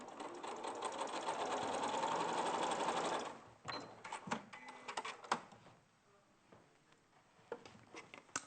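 Sewing machine top stitching across a Christmas stocking runs steadily for about three seconds, then stops and leaves soft fabric handling and clicks.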